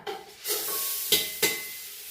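Washed, drained basmati rice hits hot ghee with a steady sizzle, then two quick stirring scrapes cut through the continuous frying hiss.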